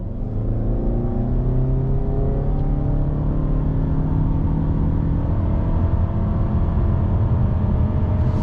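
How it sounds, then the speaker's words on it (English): A 2021 Toyota Camry Hybrid XSE with a CVT pulls away from a dead stop at full throttle, a loud, sustained engine drone held at steady high revs with a whirring hybrid hum underneath, no voices. "when you're on throttle, foot to the floor, the revs just stay pegged and not the fastest of acceleration"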